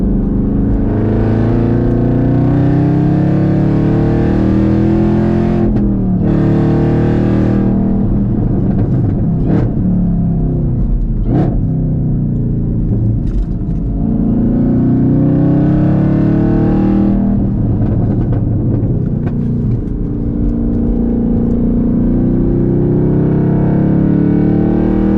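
A 2022 Chevrolet Camaro ZL1 with manual gearbox and rev matching, its V8 roaring loud and close from inside the cabin on a race track, climbing through gears with sharp shift breaks and blips between long pulls.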